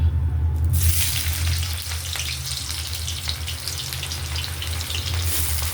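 Chopped onions hitting hot oil already spiced with whole garam masala, bay leaf and dried red chilli, frying in a steady, loud, dense sizzle that carries on unbroken for several seconds with no talk.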